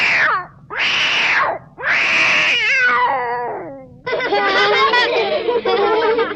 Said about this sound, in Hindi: और टोकरी में एक बिल्ली का बच्चा